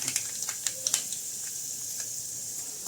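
Chana dal, cumin and mustard seeds tempering in hot oil, a quiet sizzle with scattered small crackles and pops early on that thin out over a few seconds.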